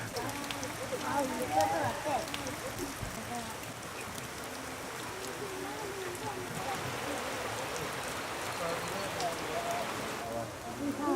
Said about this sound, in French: On attend la fin de la pluie.